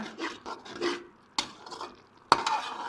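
A spoon stirs tikka masala spices in a kadhai: scraping, rasping strokes come in short bursts with two sharper knocks against the pan. The sound is close and fairly clear, with no voices.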